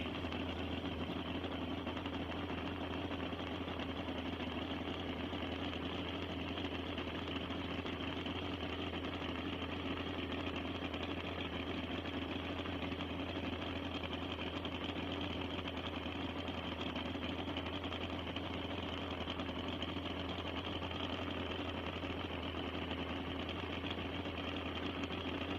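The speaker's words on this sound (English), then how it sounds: "this is a 1995 vintage Harley Davidson 2-cylinder. 1650 cc." A 1995 vintage Harley Davidson 2-cylinder 1650 cc push-rod engine at a land speed racing event, running steadily with a continuous low idle-like drone and no talk.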